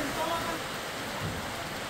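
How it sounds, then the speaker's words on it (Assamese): Heavy rain pours during a storm, a dense, steady rushing hiss of rainfall that stays even and unbroken throughout the short stretch. "নেৰানেপেৰা বৰষুণ ধুমুহা আৰম্ভ হৈছে"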